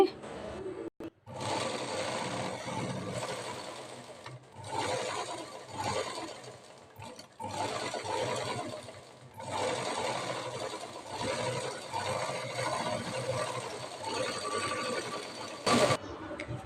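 A sewing machine stitches a princess cut blouse, joining the fronts, with a steady close whirring hum that runs in long stretches, broken by a few brief pauses and one sharp click near the end.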